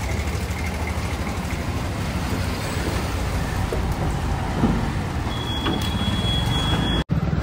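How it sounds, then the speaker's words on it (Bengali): Light drizzle falls in Delhi beside a waiting car, heard as a steady, even hiss blended with low road and vehicle rumble throughout, with no voices. "বৃষ্টি পড়ছে দিল্লিতে, টিপ টিপ করে বৃষ্টি পড়ছে।"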